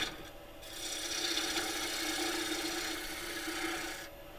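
Lathe tool cutting across the base of a turned holly wood bowl, a steady scraping rasp that builds after a brief pause, holds for about three seconds, then fades as the cut ends.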